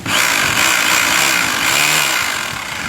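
An ENZO 26 mm three-mode rotary hammer drill runs continuously nearby, a loud, steady motor whine with a rough mechanical buzz that holds for a few seconds and eases slightly at the end.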